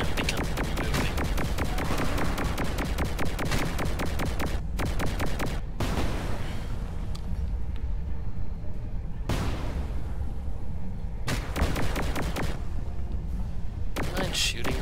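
Rapid bursts of gunfire in Saints Row IV, dense volleys of shots and booms in repeated clusters separated by brief gaps, loud throughout, with players talking over the game.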